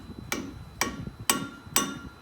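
A hammer drives a screwdriver to bend a lock washer tab on the front steer hub of a Peterbilt 386: four sharp, close metallic strikes, evenly spaced about half a second apart, each with a short ringing tail.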